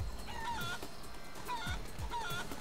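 A chicken in the video game Guacamelee clucks repeatedly in quick, close bursts, a steady series of short clucks with no talking over them.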